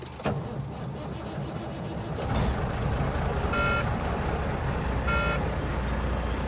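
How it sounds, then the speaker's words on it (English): A truck engine starts with the clutch pedal pushed to the floor and the gearbox in neutral. Its low rumble swells partway through and holds steady, with two short electronic chime bursts sounding over it and no talking. "We're going to push the clutch pedal all the way to the floor, and we're going to do a safe start."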